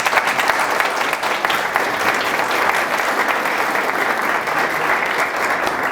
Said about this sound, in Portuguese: Muito bem, salva de palmas.